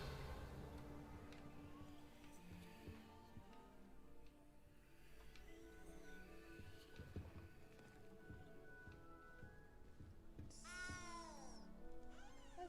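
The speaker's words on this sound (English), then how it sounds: "There's a noisy cat." A cat meows in the game Hogwarts Legacy, sounding as a few faint, drawn-out wavering cries over quiet ambient game music, with a clearer meow near the end.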